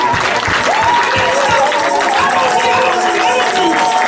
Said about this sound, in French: On va applaudir pendant 2 minutes, mais très fort, en disant Alléluia, Alléluia